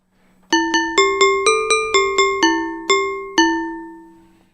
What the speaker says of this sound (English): This is a sound of a metal barred instrument like glockenspiel